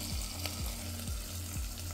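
A tempering of mustard seeds, chana dal, urad dal, dried red chillies, curry leaves, cumin and asafoetida sizzling in hot oil as it goes into bitter gourd curry, a close steady crackle with a repeating low thump.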